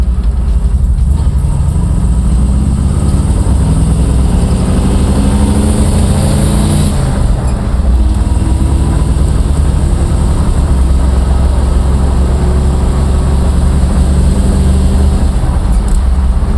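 Classic car engine droning steadily while driving, shifted back into second gear after braking, a loud continuous low rumble from inside the cabin with a brief change in tone midway.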